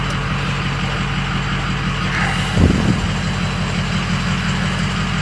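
A Ford 6.0 Powerstroke diesel pickup truck engine running steadily, a loud, constant low rumble with a brief louder surge partway through, with no talking.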